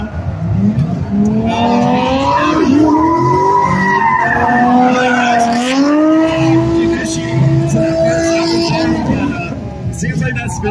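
A drifting BMW at a drift competition spins out, its tires skidding and squealing loudly and continuously over a steady engine roar, with the wavering screech rising and falling in pitch throughout.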